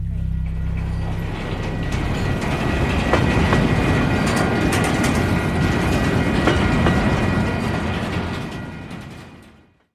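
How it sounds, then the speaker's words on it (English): A train rolls along the rails with a loud, continuous rumble and faint rhythmic clatter, holding steady before fading away at the end. "I met him on the train."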